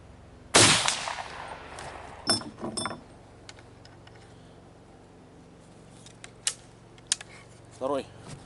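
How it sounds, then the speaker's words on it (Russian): A single loud, sharp shotgun blast from an IZh-K 32-gauge firing a Leningradka slug at a target, ringing out near the start, followed by a few softer clicks and handling knocks. "Значит, первый выстрел."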